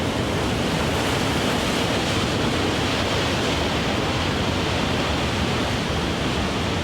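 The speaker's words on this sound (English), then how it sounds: "those are some big waves" Big ocean waves crash and surge in a continuous loud roar of surf, broadband and unbroken throughout, with no voices.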